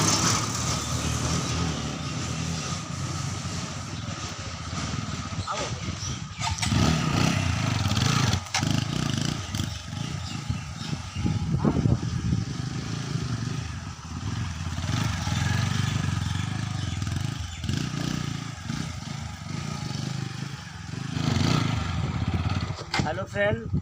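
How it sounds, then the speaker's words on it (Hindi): A new Apache motorcycle being ridden, a steady rumbling engine with road and wind noise and occasional clatter, loud and sustained for the whole stretch, with voices talking intermittently over it. "अब हम गाड़ी चला के दिखाएंगे आप लोग का"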